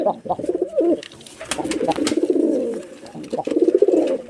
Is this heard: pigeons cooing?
yes